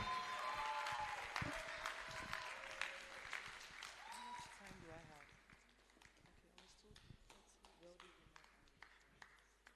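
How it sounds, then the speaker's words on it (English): Audience applause at a women's entrepreneurship empowerment forum, a dense wash of clapping that starts loud and gradually thins into scattered claps, with voices and speech mixed in throughout. "please put your hands together"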